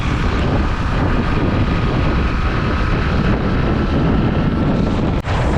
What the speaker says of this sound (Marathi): वाऱ्याबरोबर जोरात पाऊस पण चालायला लागला